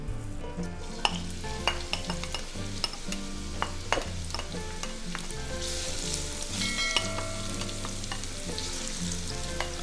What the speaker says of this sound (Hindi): हमारा पैन गर्म हो गया जी, तो इसमें हम ऑयल डालेंगे सबसे पहले, और साथ ही इसमें हम प्याज डाल देंगे।